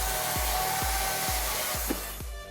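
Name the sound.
cutting firewood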